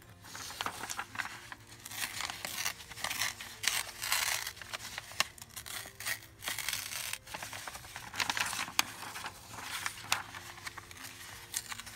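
Paper torn by hand for a junk journal, with quiet repeated rips and crinkles in short uneven bursts, close up and faint against a soft background hum.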